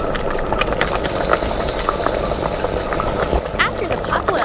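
Steady bubbling and hissing of water with shrimp at a rolling boil in a pot, continuous and fairly loud throughout.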